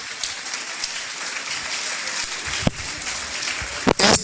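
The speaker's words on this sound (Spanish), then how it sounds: "Saluden por favor y apláudanle." A crowd at a business opportunity meeting in Guadalajara applauds in a steady, fairly loud wash of clapping, ending with a few sharper, closer claps.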